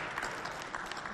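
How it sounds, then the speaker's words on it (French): An audience at a Valentine's Day stage show claps in brief, dense applause that stays even and fairly close from start to finish. "Applaudissez pour"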